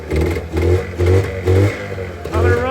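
An Arctic Cat 440 snowmobile engine runs and revs in repeated rhythmic surges, loud and close, rising and falling about every half second.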